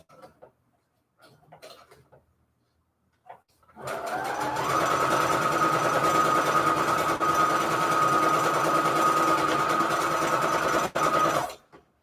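A sewing machine stitches through paper scraps in one long steady whirring run of about eight seconds, close and loud, after a few quiet handling noises.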